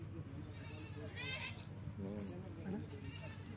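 A goat bleats at a livestock market, several wavering cries rising over a man's nearby speech and low crowd murmur, the bleats coming in short bursts across the few seconds.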